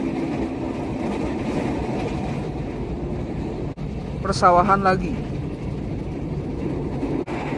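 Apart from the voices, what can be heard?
KRL commuter train running, passing long-distance train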